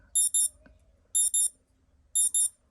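Alarm beeping from a 1982 Casio CS-821 game watch: three loud paired bursts of high electronic beeps, evenly spaced about a second apart, with near silence between them.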